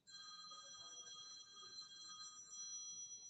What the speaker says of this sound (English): Someone answer their phone, please.